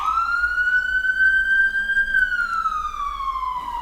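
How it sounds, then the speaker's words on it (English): An emergency siren wails nearby, a loud, clear tone that rises and holds, then slowly falls, with a faint low hum of traffic beneath. "There's a siren, that's pretty grim."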